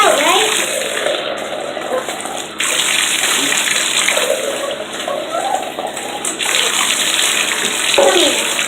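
Water runs loudly and continuously from a tap into a bathtub while a dog is bathed, with splashing changes as the flow is moved and a person's voice faintly heard underneath.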